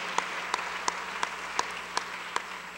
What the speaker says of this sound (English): How about a round of applause for the Good Food Festival.